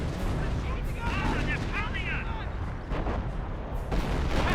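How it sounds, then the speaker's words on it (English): Artillery barrage in the World War II strategy game Company of Heroes, a dense rumbling roar of repeated booming impacts under a commentator's voice, with faint whistling overhead. "More artillery on endless green barrage"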